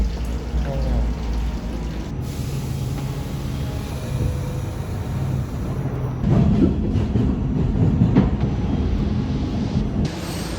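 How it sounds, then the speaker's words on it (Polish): Elevated metro train rumbling overhead at Brighton Beach, New York, a steady low rail roar that swells louder midway through as cars clatter past, with faint voices mixed in. "Metro nad nami, dokładnie."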